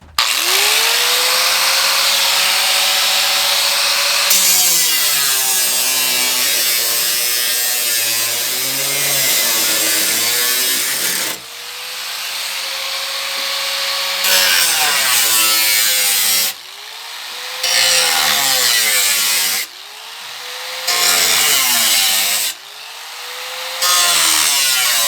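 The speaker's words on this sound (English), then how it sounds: "I'll cut this ear off here, and then we'll be able to see where all the weight is." An electric power tool cuts a bracket off a Honda Civic body during weight reduction, a loud continuous whining drone that rises and falls in pitch, then breaks into several separate cuts with short pauses between them.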